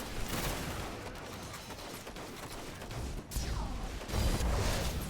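Fusion rifle fire in Destiny: House of Wolves comes as a dense, crackling barrage of bursts and impacts at even loudness, with a heavier crash near the end.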